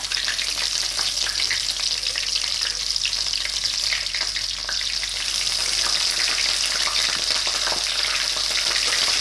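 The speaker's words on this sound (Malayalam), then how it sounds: "ആ കൂട്ടത്തിൽ തന്നെ കുറച്ച് കറിവേപ്പിലയും കൂടി ഇട്ട് കൊടുക്കാം" Curry leaves and dried chillies crackle in mustard oil over a low flame while making mango pickle; a dense, unbroken sizzle with faint stirring, close and even throughout.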